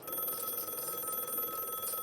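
A telephone bell rings at a poker night, its bright, repeating trill pulsing steadily and fairly quietly for a couple of seconds.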